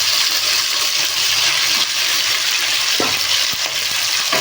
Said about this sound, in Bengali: কর্নফ্লাওয়ার মেখে ভাজা